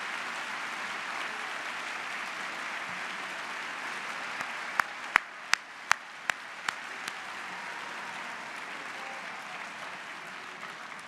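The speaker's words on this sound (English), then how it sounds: "I would like, at the beginning of this conference, for you to applaud one another" Conference audience at an annual arts convention applauds one another, a steady broad wash of many hands clapping at moderate distance, with a few sharp louder claps near the middle.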